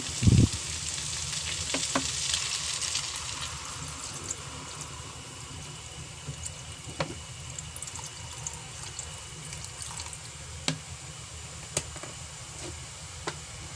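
Water poured into a pan of Batangas lomi with fresh noodles makes a steady frying sizzle and bubbling, with occasional clinks and stirring sounds, close and moderately loud.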